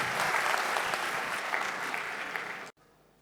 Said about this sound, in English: Round of applause for Wing Labs.